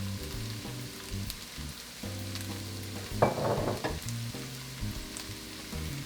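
Onions and garlic frying in oil in a pan, a soft, steady sizzle with occasional stirring scrapes and a brief louder burst midway, under quiet background music.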